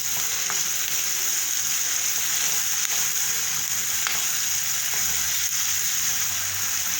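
Carrot soup cooks in a pot, a steady loud sizzle and simmer running throughout with a few faint clicks of stirring, no talk.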